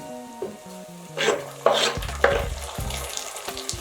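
Onions and tomatoes fry in a pan for chicken biryani, a close, steady sizzle broken by scraping stirs and clanks, with soft music underneath.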